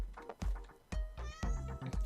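A house cat meows several times in quick succession, close and fairly loud, with drawn-out, wavering cries.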